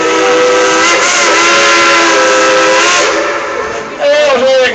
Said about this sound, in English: Some whistle blowing.